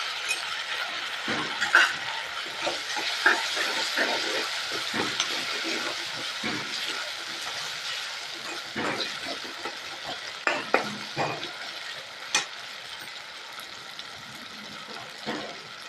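Tomato pieces frying and being stirred in a pan for a Telugu perugu charu, a steady sizzle with scattered clinks and scrapes of the utensil throughout, close with no talk.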